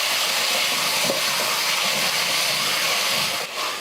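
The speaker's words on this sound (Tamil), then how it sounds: "நல்லா வதங்கட்டும் எண்ணெயில்" Chicken fries in oil with turmeric, tomatoes and salt, giving a loud, continuous hissing sizzle that stays close and even, with a brief dip and flare near the end.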